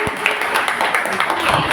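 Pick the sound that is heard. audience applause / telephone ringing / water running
audience applause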